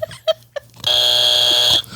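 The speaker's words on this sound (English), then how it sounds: "I get the chance to hit the buzzer." After a few short sounds, a loud buzzer blares for about a second, steady and harsh, then cuts off.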